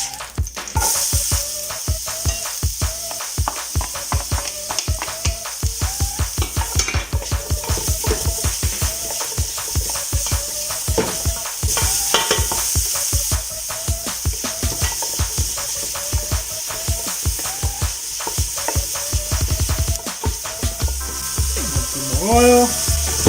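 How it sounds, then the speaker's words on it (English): Onions sizzle and fry in hot olive oil on a stovetop while lasagna meat sauce is prepared, giving a steady, close, crackling hiss that runs throughout with rapid popping bursts and no talk. "Pour in some olive oil until it gets nice and hot. You could always put some onion inside. It's gonna be your natural timer. Once you hear them sizzle,"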